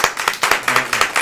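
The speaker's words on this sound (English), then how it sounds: "Everybody clap." A geometry class claps hands together on cue, about five sharp, evenly spaced group claps in just over a second, close and fairly loud.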